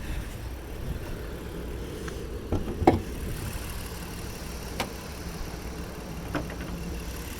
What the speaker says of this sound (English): The vehicle's running, by the way